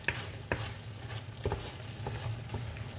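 Mushrooms cooking in coconut milk stirred in a pan, a quiet patter of scrapes and soft taps repeating under a faint low hum.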